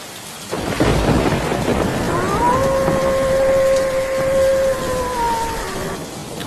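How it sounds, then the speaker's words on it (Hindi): Heavy rain roars steadily with a rumble of thunder, while a drawn-out wailing tone rises and holds in the middle. "आसमान में बिजली कड़कती रही और ज़ोर ज़ोर से बारिश पड़ती रही।"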